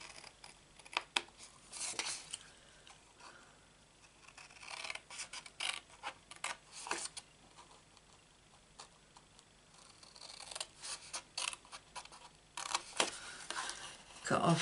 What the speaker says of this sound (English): cut off the tab, don't need that, and then miter it out